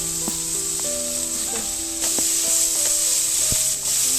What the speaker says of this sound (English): Saute the onion just for a minute on high flame and then add 1 chopped tomato and saute that also for about a minute.